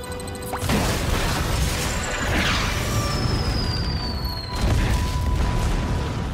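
Explosion in a World of Warcraft cutscene, a loud sustained blast and crashing rumble filling the scene with swelling debris noise, no voices.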